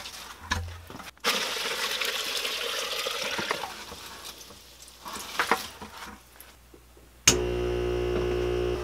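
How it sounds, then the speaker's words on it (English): Water splashing and trickling while a hydroponic nutrient tank is refilled with about 15 gallons, then a small pump switches on and settles into a steady, close electrical hum. "pump's running"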